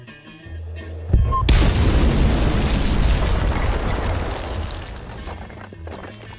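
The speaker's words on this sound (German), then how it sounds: "listen to how the music of the radio and the explosions interact" Loud, rumbling explosions in the Battlefield 6 video game, rendered with Frostbite HDR audio: a sudden heavy blast about a second in, followed by a sustained roaring, crackling wash that slowly decays.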